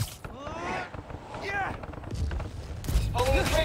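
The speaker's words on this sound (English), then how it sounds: "Watch out for gunfire." Enemy gunfire during a combat challenge in the Spider-Man Miles Morales video game, a few sharp shots and bursts mixed with game effects and a voice talking over the action.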